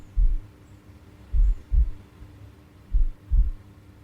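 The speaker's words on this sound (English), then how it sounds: "The sound of your circulation as blood is pumped around your body." A heartbeat with blood pumping through the body, heard as soft, low, muffled double thumps repeating about every one and a half seconds over a faint steady hum.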